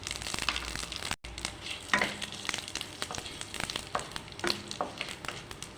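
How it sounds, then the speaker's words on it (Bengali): Dried red chillies and bay leaves frying in hot oil, a continuous crackling sizzle with a sharp clatter as they drop in and occasional stirring scrapes. "শুকনো লঙ্কা, তেজপাতা দিয়ে দিচ্ছি।"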